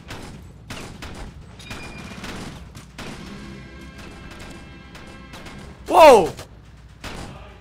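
A red Soviet gun fires in the video game Ravenfield, bursts of shots across the clip with a louder crash near the end, while a man exclaims over it.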